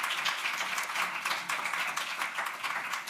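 An audience at an aquaculture and public health panel gives the panelists a brief round of applause, with quiet, steady clapping from a modest crowd.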